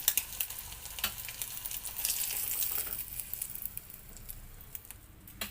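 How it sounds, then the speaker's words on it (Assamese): Eggs fry in a pan with a close, continuous sizzle and spatter, full of small crackles and pops that ease off slightly toward the end. "কণীকেইটা আমাৰ ফ্ৰাই হৈ গ'ল।"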